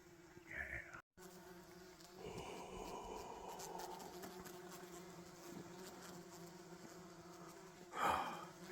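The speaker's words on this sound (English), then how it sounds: "I've got an annoying amount of bugs in my tent" Bugs buzz inside a tent on a long-distance trail, their high droning whine rising and fading close by, with a few rustles and a brief louder burst near the end, and no talking.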